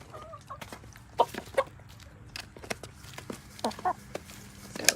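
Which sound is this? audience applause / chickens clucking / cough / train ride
chickens clucking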